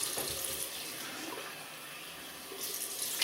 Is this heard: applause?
no